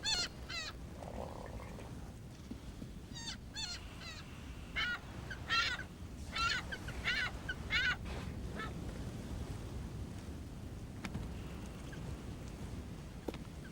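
Striated caracaras, also known as Johnny Rooks, call at a nest on an outlying Falklands island, giving a series of harsh, croaking squawks over steady wind and surf noise, some near, some more distant.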